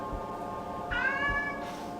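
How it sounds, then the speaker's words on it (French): A single drawn-out cat meow rises clearly over a quiet background hum, close by, with no speech. "ceci est un chat"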